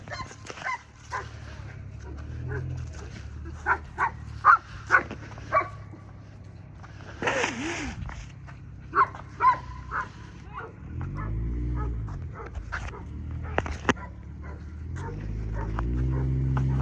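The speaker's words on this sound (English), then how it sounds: "Girls need to fucking control these big dogs of yours." Big dogs barking in short, loud bursts scattered through the scene, mixed with whimpers and yips, while a person talks in between.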